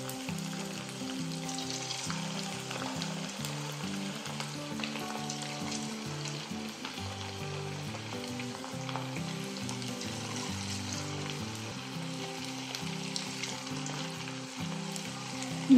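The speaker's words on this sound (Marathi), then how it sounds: "मीडियम टू हाय असं टेम्परेचर मेंटेन करत आपण हे तळून घेणार आहोत" Chicken pieces for chilli chicken deep-fry in hot oil at medium-high heat, giving a steady, dense sizzle and bubbling that holds evenly throughout at a fairly soft, close level.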